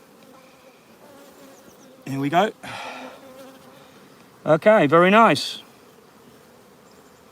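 Honey bees hum in a low, continuous buzz around an open hive during a nuc transfer, with someone speaking briefly over the drone.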